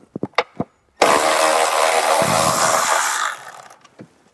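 Power tool spinning out 10mm bolts from an intake bracket on a Dodge Jeep Chrysler 3.6L engine, a few short ratchet clicks then a loud sustained whirring burst of about two seconds, close up.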